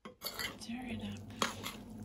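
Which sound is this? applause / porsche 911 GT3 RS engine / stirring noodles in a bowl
stirring noodles in a bowl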